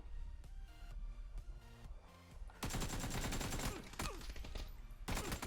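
Automatic gunfire in the video game PUBG, with scattered single shots followed by dense, loud bursts of rapid fire that pause briefly before resuming.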